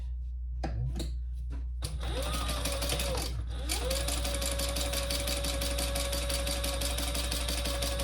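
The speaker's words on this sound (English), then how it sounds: "we're going to top stitch on either side, 1/8 of an inch" A sewing machine topstitches along either side of a seam on a crossbody bag, a loud, continuous motor hum with rapid needle clatter after a few brief starts and stops.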